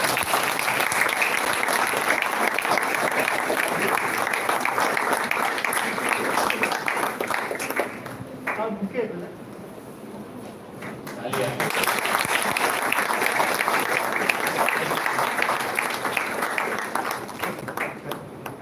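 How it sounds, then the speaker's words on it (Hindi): A crowd applauds loudly in welcome at a devotional gathering, sustained clapping that drops away briefly midway, with scattered claps and a voice in the lull, then swells again to full strength. "और जोरदार तालियों से स्वागत किया।"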